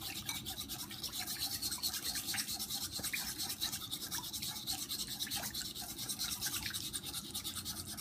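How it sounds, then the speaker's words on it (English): Peanut butter is whisked until creamy, a steady faint scratching and swishing that repeats in quick, even strokes with no pauses. "you just keep whisking them until it's nice and creamy"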